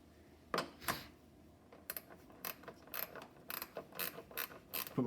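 Ratchet clicks in short irregular bursts as a cover bolt is tightened on the carburetor of a Troy-Bilt Storm 2410 snowblower, close and fairly quiet, with pauses between strokes.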